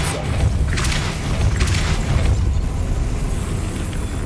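A Depulso spell cast in Hogwarts Legacy lands as a deep boom with a burst of whooshing force, then a rumbling tail that fades under steady ambient noise.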